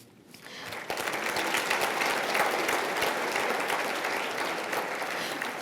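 An audience at an award ceremony applauds a group of nominees, with dense, sustained clapping that swells up in the first second and holds steady, with no talking.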